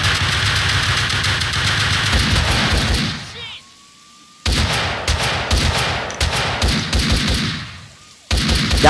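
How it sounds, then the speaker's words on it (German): Gunfire in the video game Max Payne 2: dense, loud bursts of rapid shots and thuds that stop abruptly for about a second, then resume in choppy volleys before another brief pause and a final burst. "Schüsse."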